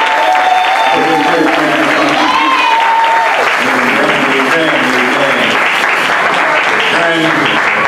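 A church congregation during a Sunday morning praise break claps hands loudly and continuously, mixed with singing voices and music throughout.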